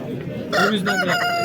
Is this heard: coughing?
no